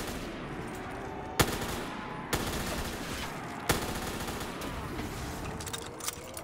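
A few sharp, loud gunshots from an MG15 machine gun in Black Ops 3 custom zombies, spaced a second or so apart and ringing out over dense, constant game noise.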